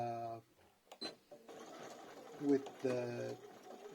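A sewing machine straight stitches a binding with a short whirring run, mostly under a voice talking nearby.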